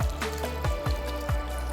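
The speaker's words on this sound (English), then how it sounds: "I'm going to add some water now, enough to cook the yam" Water poured into a cooking pot of ram meat and yam, gurgling and splashing with a few distinct plops recurring at irregular intervals over a steady liquid rush, close and moderately loud.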